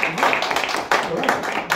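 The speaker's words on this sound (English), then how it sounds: "Let's hear a round of applause, you guys." An audience applauds at a chef's speaker series event at Fairview, with bursts of clapping that rise and fall under a speaking voice.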